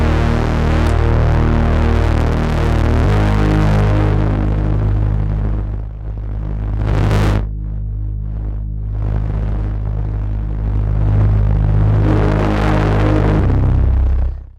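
Pittsburgh Modular Lifeforms SV-1 Blackbox synthesizer playing sustained, droning bass-heavy tones with shifting harmonics and a sweeping filtered burst in the middle, loud and alone.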